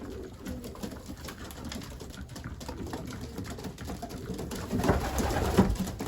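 Pigeons coo softly and steadily throughout, with a busy low murmur of birds that grows slightly louder near the end.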